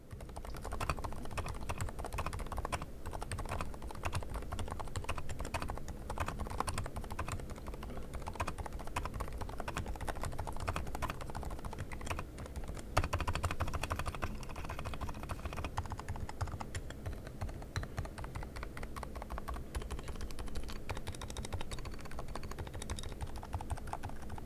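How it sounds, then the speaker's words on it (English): An Epomaker TH80-X gasket-mounted keyboard fitted with Deep Sea Islet silent switches is typed on continuously, giving a dense, soft, muffled patter of keystrokes that stays steady and quiet throughout. "I decided to swap the Flamingo switches out for my box Deep Sea Islet silent switches because they are a much smoother and, in my opinion, a quieter experience"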